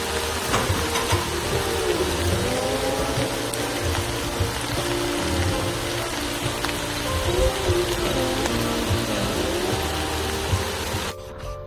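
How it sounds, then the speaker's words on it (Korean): Heavy rain falls steadily across a countryside cabbage field, a dense and continuous hiss with drops pattering on surfaces, filling the whole clip before it cuts off abruptly near the end. "지금 비가 이렇게 많이 오는데 계속 하고 있네요"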